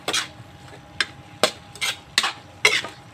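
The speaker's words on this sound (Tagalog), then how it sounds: "Haluin pa natin." Mung bean sprouts stirred in a hot pan with a utensil, giving a run of about six crisp scraping, clattering strokes at an even pace, close and moderately loud over a faint steady sizzle.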